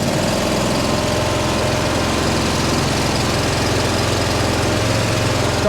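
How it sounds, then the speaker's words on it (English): A blue zero-turn mower's engine runs steadily at idle, a loud, close, continuous mechanical drone with a rough knocking pulse throughout and no speech. "Now, will this thing start if you're not sitting on the seat?"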